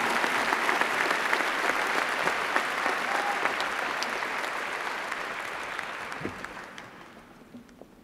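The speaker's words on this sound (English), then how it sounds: "Please join me in a round of applause for the graduating class" Graduation-day audience applauding the graduating class from the Centre for Environmental Policy, a broad hall full of clapping that holds steady and then fades away over the final seconds.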